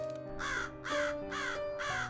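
Four harsh, evenly spaced bird caws, crow-like and screeching, come close and loud over a low steady hum, serving as an eerie horror-story sound effect.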